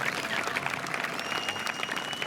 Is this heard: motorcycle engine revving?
no